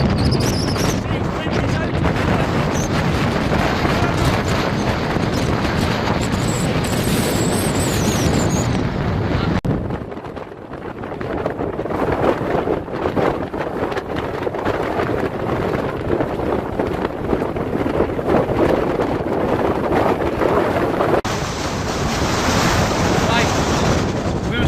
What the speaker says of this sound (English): it's just too windy, so we're going to go back down and have some dinner down there instead. It's really bad up here.